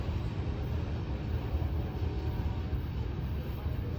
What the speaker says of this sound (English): Another loaded grain train.